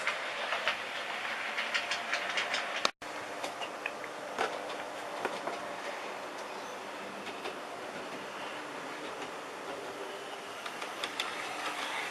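A Hornby class 73 model locomotive in Stewarts Lane livery runs smoothly along its track at a low power setting, a steady, faint rolling whir with light clickety-clack rail rhythm and no talk.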